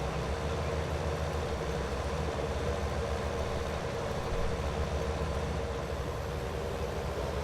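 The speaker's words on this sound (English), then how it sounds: "Catching up with our other tractor again." The engine of a tractor in the Farming Simulator 19 video game runs in a steady, dense rumble that stays even throughout, with no talking over it.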